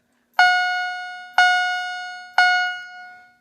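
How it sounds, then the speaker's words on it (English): A quiet security alarm panel chime sounds three times, evenly spaced about a second apart. Each tone is clear and bright and rings with a slow fading decay, heard on its own in a quiet room. "I'll just acknowledge it, so you can hear the chime only."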